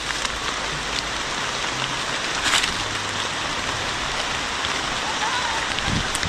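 Rain falls in a steady, even hiss of dense drops pattering on surfaces outdoors, continuous and fairly loud throughout with no clear voices.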